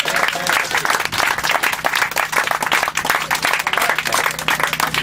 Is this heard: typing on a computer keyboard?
no